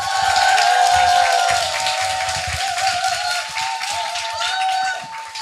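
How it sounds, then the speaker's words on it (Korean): A crowd at a morning seminar cheers and claps loudly to welcome the main lecturer, steady applause mixed with sustained whistling or whooping tones, slowly tapering toward the end. "큰 함성 박수 부탁드립니다"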